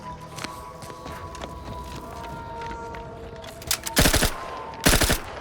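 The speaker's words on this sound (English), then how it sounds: "it's a burst fire gun" A burst-fire gun in The Outer Worlds 2 fires two short, loud, rapid bursts near the end, each a tight cluster of cracks, after quieter footsteps and ambient game sound.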